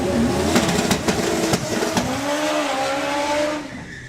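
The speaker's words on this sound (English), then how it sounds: "four-wheel burnouts" An Audi TT drag car does four-wheel burnouts at a doorslammer drag racing event, its engine holding a loud, steady high-revving drone while tyres squeal and sharp bursts punctuate the roar before it fades at the end.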